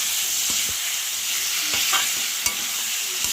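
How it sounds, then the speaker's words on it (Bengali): Spice paste for an egg and masoor dal dish frying in a pan with a little sugar added, giving a continuous bright close sizzle broken by scattered clicks and scrapes of stirring. "এবং ভালো করে মশলাটাকে কষিয়ে নিচ্ছি"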